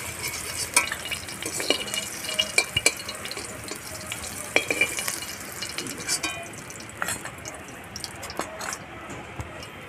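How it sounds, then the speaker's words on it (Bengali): Okra fries in hot oil with a steady, dense sizzle that runs throughout, broken by occasional sharp clinks of a utensil stirring the pan. "ভেন্ডিটা একটু লাল লাল মতন করে ভেজে তুলে নিচ্ছি।"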